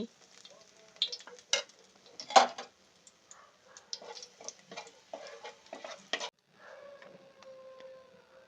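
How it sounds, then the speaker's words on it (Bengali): Black cumin and asafoetida dropped into hot oil, giving a sparse, crackling sizzle of scattered pops and ticks that rise and fade, with a faint steady fizz near the end. "আমাদের তেলটা গরম হয়ে গেছে। এরপর এর মধ্যে আমরা কালো জিরে দিয়ে দেব আর দিয়ে দেব হিং।"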